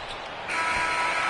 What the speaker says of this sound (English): Misses at the buzzer.